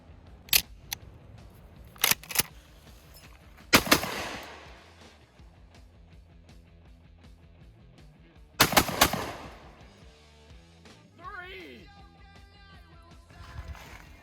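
Several loud, sharp gunshots from a TR Imports Silver Eagle Inertia One budget shotgun, fired singly with pauses between them, roughly one shot near the start and a few more spread across the clip over a low background.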